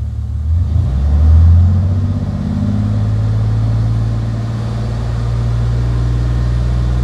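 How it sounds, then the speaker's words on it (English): Chevy Silverado engine revving up from idle toward about 2000 RPM, a steady close, loud low engine drone that rises and then holds throughout, with no talking. "now I'm gonna rev up the engine and see at 2000 RPMs"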